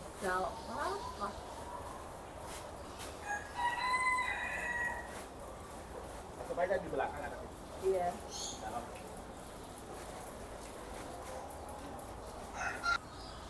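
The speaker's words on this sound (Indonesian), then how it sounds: "kita sudah sampai di kandang ayam yang tadi kita pengen kunjungin" Chickens cluck and a rooster crows intermittently inside a clean, glass-walled chicken coop, with a few people talking nearby and soft background noise.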